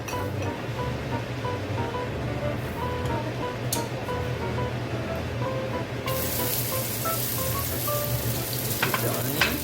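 Onion fries in a pan for pork binagoongan, a continuous soft sizzle that grows brighter and louder partway through, with faint background sounds and no speech.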